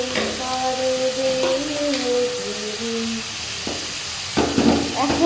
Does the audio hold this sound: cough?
no